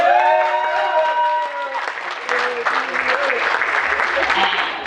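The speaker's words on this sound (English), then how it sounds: "can you please clap for yourself?" A film festival audience in Los Angeles claps for itself, a full crowd applause with a voice talking and tonal sound over the start, continuing steadily beneath.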